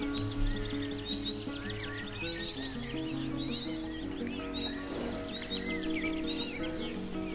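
A horse working on a lunge line outdoors gives faint snorts and whinnying sounds against a soft background of chirping birds, with no clear talking.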